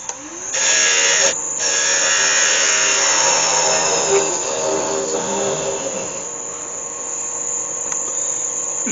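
A wood lathe parts off a 12mm spigot on a small walnut-adjacent finial for a Christmas bauble, a close, bright whirring and scraping tool noise with a sharp shriek at the start, running steadily for most of the clip and gradually easing.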